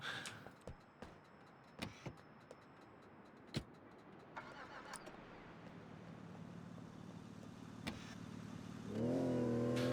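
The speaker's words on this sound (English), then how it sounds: "I'm gonna get in Lance's car" Car engine in the GTA Vice City video game, a faint mid-pitched engine hum under scattered clicks and taps, swelling into a louder, rising rev near the end.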